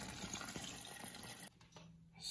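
A refrigerator water dispenser runs a stream into a pitcher, a quiet steady pour that cuts off partway, leaving near silence with a faint trickle.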